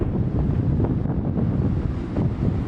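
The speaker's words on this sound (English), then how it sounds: "I just can't get over these waves and how big they are." Continuous roar of wind and big, rough, choppy sea waves at a beach in Figueira da Foz, heavy low rumble with surging swells, loud and steady with no voices.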